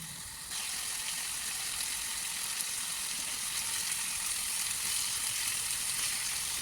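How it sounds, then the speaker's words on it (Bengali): Fish simmering in a pan as it is flipped to braise on both sides, a steady close sizzle and bubbling hiss that holds evenly throughout, with faint scraping underneath. "এটা বলক এসে গেছে তো এটাকে আমি এই মাছটা আমি এখন উল্টিয়ে পাল্টিয়ে দেব যাতে দু সাইডেই কষানো হয় মাছটা"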